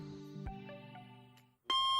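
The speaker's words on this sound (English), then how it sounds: "The alarm clock functioned as intended" A tonal electronic tone hums for over a second, then a short pause gives way to a loud, bright electronic beep.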